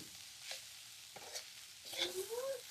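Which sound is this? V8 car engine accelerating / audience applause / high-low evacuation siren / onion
onion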